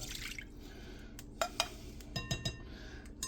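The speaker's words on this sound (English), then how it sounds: "Kind of rinse that can out some." A can being rinsed out with water in a home kitchen while cooking chicken cobbler: soft trickling and splashing, with a few sharp metallic clinks and knocks of the can, fairly quiet and close.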